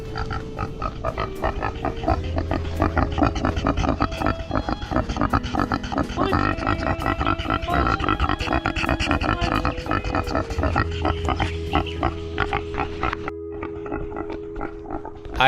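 A pig on a farm in Hawaii grunts and oinks steadily, loud and near, over a constant bed of outdoor noise with no talking.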